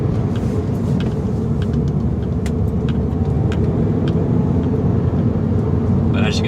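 A 2010 Mini Cooper S is driving, with a constant loud low road and engine rumble from inside the cabin and occasional small clicks and rattles.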